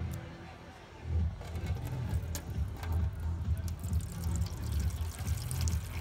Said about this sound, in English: We're going to pour some water in.